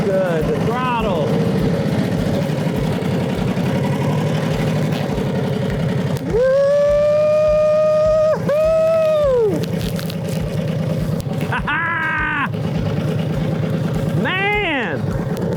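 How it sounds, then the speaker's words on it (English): A 90-year-old motorcycle riding down a winding road, its engine a steady close drone with rising and falling whines as it shifts, while a rider talks over it. "Man, this motorcycle was made for that road."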